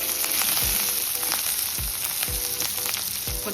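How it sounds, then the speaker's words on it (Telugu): Curry leaves, dried red chillies and crushed spice masala frying in hot oil for drumstick rasam, a close, continuous crackling sizzle with sharp pops and stirring scrapes. "ఎండుమిర్చి, దంచి పెట్టుకున్న చారు మసాలా కొద్దిగా వేగనివ్వాలి"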